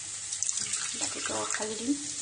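Hot water poured into a cooking pot while preparing elephant foot yam (suran), a steady running-water wash under a voice speaking close by.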